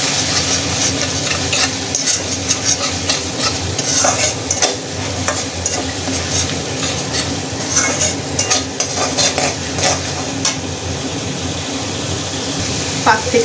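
Spice masala with coconut paste stir-fried for an egg curry with kankarol, thick paste sizzling as a utensil scrapes and clatters against the pan in busy, uneven strokes, loud and close.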